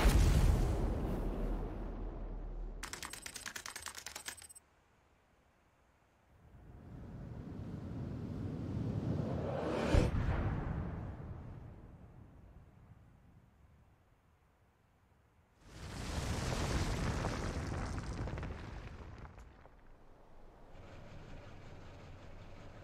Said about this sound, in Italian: Quell'esplosione.